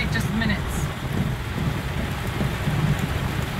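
Heavy rain pours steadily on a back road in Costa Rica during the rainy season, a dense continuous roar with low rumbling that suggests thunder, no voices heard.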